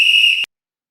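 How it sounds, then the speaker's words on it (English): A single sharp referee's whistle blast, loud and close, holds steady for under half a second and then cuts off into silence. "the whistle."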